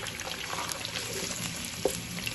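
Finely chopped medium onion sautés in hot ghee for keema fry, giving a soft, steady sizzle with faint stirring scrapes and one small clink, quiet and without talk.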